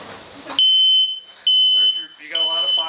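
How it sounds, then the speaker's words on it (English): A smoke alarm inside a burning trailer during fire training emits loud, piercing high beeps, three long tones separated by short gaps, while people talk and shout over it. "The smoke detector just went off."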